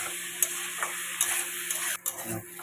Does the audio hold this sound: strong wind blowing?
no